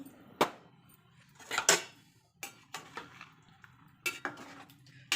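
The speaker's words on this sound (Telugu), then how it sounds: "కొంచెం నెమ్మదిగా కలిపేసుకోవాలి" Metal utensils clink and scrape against a pot of fish curry with tamarind in a few separate bursts, with quiet gaps between, close by and fairly soft.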